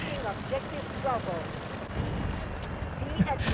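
Machine gun fire from a 7.62 weapon in the shooter game Delta Force, sustained rapid bursts mixed with explosions and battle noise, heard close and loud with a voice talking over it.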